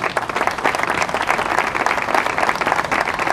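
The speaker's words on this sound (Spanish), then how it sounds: "Así que pido un aplauso para todos ellos." Steady applause from a large audience at a tourist-season opening ceremony: continuous dense clapping at even loudness throughout, without speech over it.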